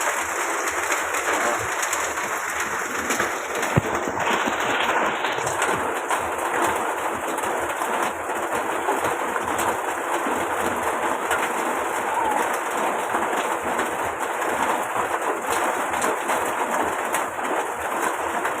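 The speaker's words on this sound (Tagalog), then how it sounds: "Itong ulan ngayon dito." Steady rain in a street in Tondo, Manila hisses continuously with an even, dense patter, with no pauses and no voices.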